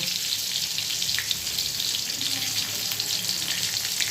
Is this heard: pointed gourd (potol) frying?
yes